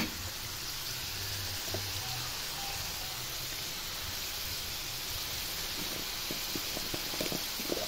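Garlic frying in a pan, a faint, steady sizzle and crackle with a few small pops near the end.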